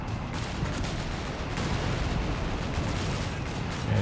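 Company of Heroes 3 battle with an anti-tank gun firing on a bunker amid constant distant gunfire and artillery, a dense steady rumble of overlapping shots with no single blast standing out.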